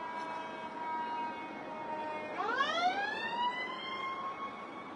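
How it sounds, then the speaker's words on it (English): A McCormick Ambulance siren sweeps past on its way to a call alongside Station 88, its wail rising and bending in pitch as it goes by, moderately distant over steady street rumble, with no voices. "That's McCormick Ambulance going to that call with Station 88"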